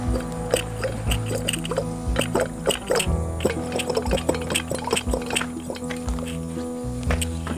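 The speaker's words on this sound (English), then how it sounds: "I believe that's water. I don't believe that's penetrating oil." Water drips and trickles steadily out of salvaged flood-damaged equipment, with a continuous wet splashing and irregular drops over a low steady hum.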